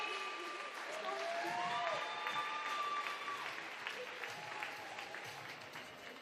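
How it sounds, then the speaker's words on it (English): Spectators at a national open swimming championship applaud the final medalists, a broad crowd clapping in a large pool hall at moderate distance, with faint voices and whistles mixed in as the clapping slowly eases. "A huge round of applause for our final medalists"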